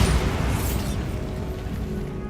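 A Bombarda blasting spell explodes in Hogwarts Legacy, a dense, loud rumbling boom with a swelling roar that fades gradually over a couple of seconds.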